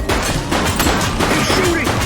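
Gunfire in The Precinct police video game, a dense burst of shots under ongoing game noise with a voice speaking over it, continuous and loud for the whole short stretch.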